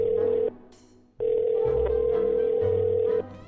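A phone call rings out over speakerphone without being answered: a steady ringback tone in two long pulses with a short gap between, loud and close, with no voices.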